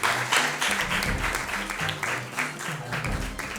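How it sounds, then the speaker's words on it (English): Audience applause at a school quiz contest, steady and sustained throughout at moderate loudness, with faint voices mixed in underneath. "Please put your hands together for them."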